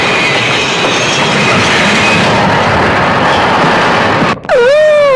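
A train runs with a loud, steady rolling rumble and clatter that fills the clip, briefly breaks, then ends with a sliding whistle-like tone.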